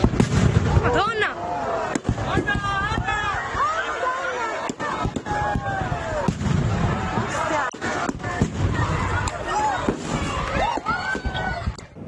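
Fireworks bang and crackle through a festival display for the Madonna di Marina celebration on the Lido di Venezia, with steady sharp bursts and some whistling streaks over continuous crowd voices.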